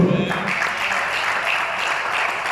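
A church congregation applauds during a sermon, sustained clapping with a brief voice at the start, then a steady wash of applause.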